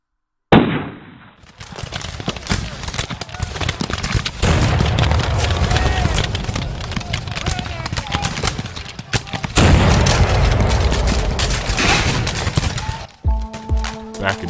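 Cannon fire opening the bombardment of Fort Sumter, a dramatized battle of rolling booms and crackling gunfire that rumbles on for many seconds, loud and dense, with voices mixed in.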